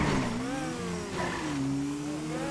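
Army truck engine in the video game GTA 5 revving with a rising and falling drone, loud and continuous throughout, with gear-like pitch sweeps.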